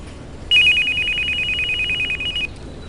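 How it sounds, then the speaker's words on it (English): A telephone rings loudly and steadily for about two seconds, a continuous electronic trill that stands alone over a quiet room before cutting off. "The phone."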